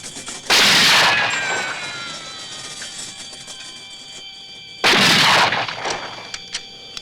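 Two loud rifle shots, about four seconds apart, ring out close by during triangulated firing practice, each followed by a long ringing echo that slowly fades.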